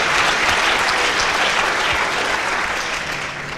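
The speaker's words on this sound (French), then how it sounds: "Oh oui, on vous applaudit" An audience at a conference on chronic pain breaks into loud, dense applause, a continuous wash of clapping that slowly tapers off.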